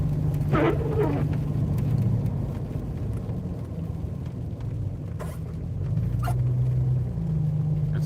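Downtown road traffic near Jefferson street in Virginia during a state of emergency, heard from inside a moving car as a steady low rumble of engines and tires with faint passing sounds, and no talking.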